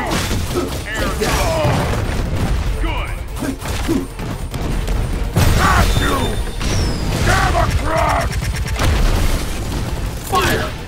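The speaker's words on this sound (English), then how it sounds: "Here's the big one. Proton cannon." Rocket Raccoon's proton cannon in a Marvel vs Capcom fighting game fires a run of heavy booming blasts and crackling bursts mixed with mechanical whirs and game voices, loud and dense throughout.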